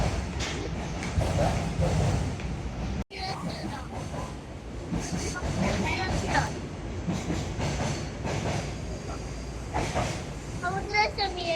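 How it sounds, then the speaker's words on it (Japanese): A freight train rolls past near Nagoya, Japan, a steady close rumble with rhythmic clatter of wheels over rail joints, while people talk over it throughout. "貨物列車見えた。"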